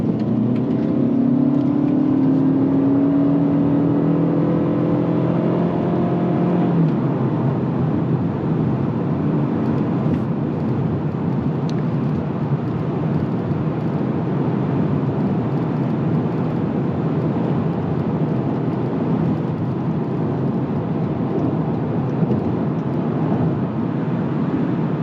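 2025 Toyota Camry XSE AWD hybrid accelerating hard in sport mode: a steady engine and road drone, with a rising whine in the first seven seconds that then settles into a broad, constant cabin hum, no talk.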